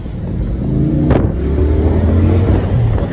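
A Hyundai Sonata 2.0 turbo revs hard in a street race, the close, loud engine note surging and swelling with a sharp burst partway through, then holding a strained roar.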